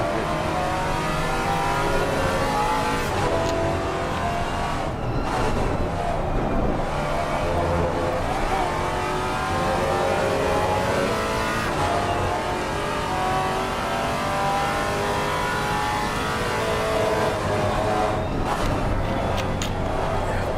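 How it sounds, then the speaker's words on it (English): A GT4 race car engine snarls and revs continuously at Kyalami circuit, rising and falling through gear changes, loud and close throughout. "Lovely, lovely sounding car."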